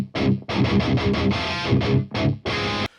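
High-gain electric guitar through a Hughes & Kettner Warp X amp, miked with a D6, giving a darker, bass-heavy tone. It plays loud palm-muted chugs in stop-start phrases with no one talking.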